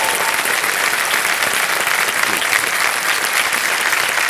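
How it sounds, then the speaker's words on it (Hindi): A studio audience on a TV quiz show gives steady, dense applause, loud and even throughout as many hands clap together. "अब निक्षा जी आपसे हम विदाई लेंगे तालियों के साथ।"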